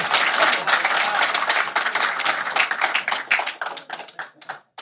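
An audience claps during a talk show conversation, a close, loud burst of many hands that gradually thins into scattered individual claps before stopping.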